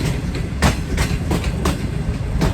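A Pakistani passenger express train on its run from Lahore to Karachi rounds a curve as it approaches Bahawalpur railway station, heard from on board: steady rumbling with rhythmic clickety-clack wheel beats over rail joints.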